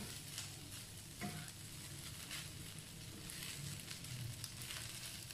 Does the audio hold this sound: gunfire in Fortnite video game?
no